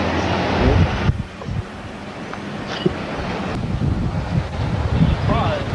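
Strong wind outdoors on an island at night buffets the microphone with loud, continuous roaring gusts, while people talk and move around underneath.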